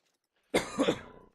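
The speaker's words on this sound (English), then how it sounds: "clear my throat a bit there" A single short throat clearing, close and fairly loud, rising out of silence and trailing off after under a second.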